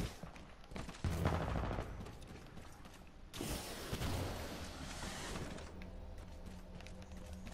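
Rapid automatic gunfire bursts rattle through Titanfall 2 gameplay, with dense crackling volleys in two main stretches, mechanical clanks between them and a low steady hum beneath.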